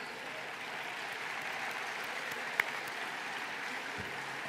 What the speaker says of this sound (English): please join me in applauding the Purdue Army ROTC Color Guard